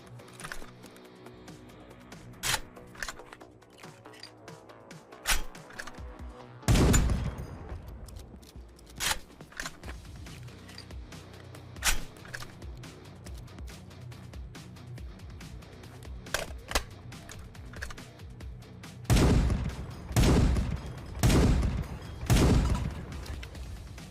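AK-50 rifle in Escape from Tarkov firing in separate sharp shots and short bursts, loud cracks spaced across the span with the densest volleys near the end, over a faint background hum and no talk.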